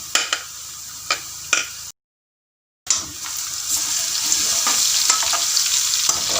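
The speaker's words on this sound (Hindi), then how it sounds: "अब हम इसमें लहसुन का पेस्ट डालेंगे।" Garlic paste hits hot oil with lightly browned onions while cooking rice pulao, giving a few sharp stirring clacks, a brief silence, then a loud, steady sizzle that swells and holds close by.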